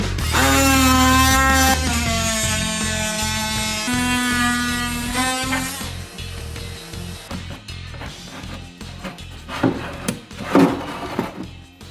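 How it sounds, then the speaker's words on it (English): An oscillating multi-tool blade cuts through glue beneath a bathroom vanity, starting as a loud, steady buzzing whine for about six seconds, then breaking into irregular scraping, knocking and rubbing noises. "What if I've got the oscillating tool and just ran the blade in there and cut the glue?"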